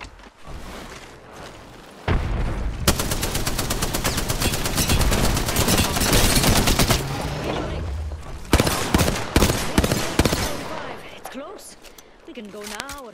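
Rapid automatic gunfire rattles in long sustained bursts during an Apex Legends match, loud and close, broken by short pauses and scattered single shots, with a voice talking over parts of the action.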